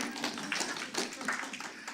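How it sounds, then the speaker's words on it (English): A church congregation at a Sunday service claps, a soft, fairly distant patter of hands under talk, lasting a couple of seconds. "Yeah, we can clap for that."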